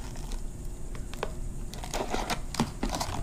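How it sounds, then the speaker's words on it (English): Scissors snip down the existing seam of a homemade cozy for a backpacking cook set and Nalgene bottle, making close crunchy cutting and rustling sounds that grow denser toward the end over a low background hum. "take my scissors, cut down the seam."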